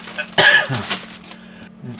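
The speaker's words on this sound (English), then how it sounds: "Sorry for the cough." A single sharp cough rings out close by, followed by a softer throat-clearing rasp over a faint steady hum.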